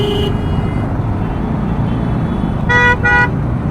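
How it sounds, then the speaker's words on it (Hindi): Car horns honk in Delhi traffic: a short beep at the start, then two quick toots near the end over a steady rumble of engines and road noise. "एक तो इतने लोग हॉर्न मारते हैं"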